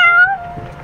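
Prince, a cat character in the game Genshin Impact, lets out a single short, clear meow, loud and close, with a falling pitch.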